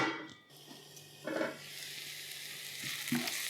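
Chopped onions and garlic sizzle steadily in a pan, a continuous close frying hiss with a couple of brief stirring scrapes and no talk.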